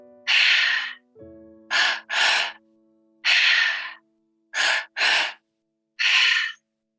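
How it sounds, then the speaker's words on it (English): Breathing exercise of three-part breaths drawn through the mouth, a series of sharp, close gasping inhales and exhales in short bursts separated by silence, with a faint low tone between the first breaths. "I'd like to invite you into our tri-active breath, which is that 3-part breath all through the mouth"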